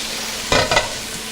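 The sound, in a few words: carrots boiling in chicken stock and orange juice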